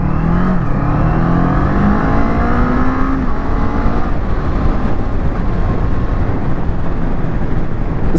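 Kawasaki Eliminator cruiser motorcycle engine under way on a ride, a loud continuous drone with rising engine tones as it accelerates, mixed with heavy wind rush.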